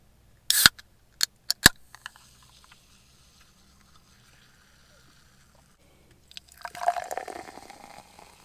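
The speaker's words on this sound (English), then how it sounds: "Let's pour our little drinky poo." Coke is poured into a glass after a few sharp clicks and taps, a short fizzy, splashing pour close by with a quiet pause before it.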